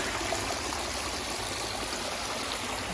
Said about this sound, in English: This is a split off waterfall.